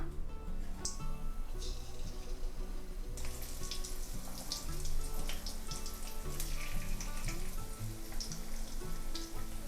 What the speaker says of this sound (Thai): พอน้ำมันเริ่มร้อนนำเต้าหู้ที่ชุบแป้งแล้วลงไปทอดค่ะ